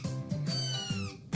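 A cartoon cat in a children's mobile game makes several short, high, bright meows in quick succession, close and clear, with no talking.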